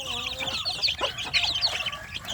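Native village chicks cluck and peep in a brooder box, a busy overlapping chorus of high, close chirps with no talking.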